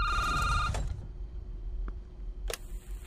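A telephone in a Plants vs. Zombies game rings in a short electronic trill that cuts off suddenly. Two faint clicks follow, then a sharp bang and a high steady whine.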